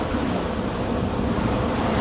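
Ocean surf rolls in a steady, loud wash of breaking water, continuous and close with no pauses or voices.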